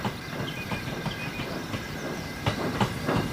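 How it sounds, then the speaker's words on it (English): A train rolls on rails, with a continuous rumble and faint rhythmic clickety-clack from wheels over rail joints, steady and moderately near, with no voices. "Suzaku had just finished shunting the last of Hitachi's vans onto her train."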